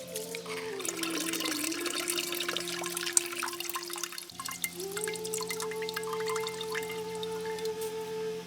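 Running water splashes and drips steadily as soaked foxtail millet is rinsed in a basin, a continuous wet trickle with small clinks, close by and fairly quiet.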